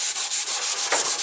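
Vigorous scrubbing of a stove top with a Norwex cleaning product, a steady close rubbing swish in quick repeated strokes with no pauses.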